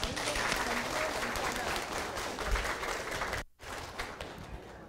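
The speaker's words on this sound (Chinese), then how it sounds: "再次以热烈掌声欢迎赖立伟" A roomful of seated legislators and trainees clapping in welcome, a dense, fairly distant patter that carries on and then breaks off abruptly before a quieter tail.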